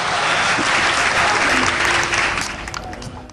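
Loud, close applause from a gathered audience at a family stage program, a thick burst of many hands clapping that stays strong and then fades away toward the end.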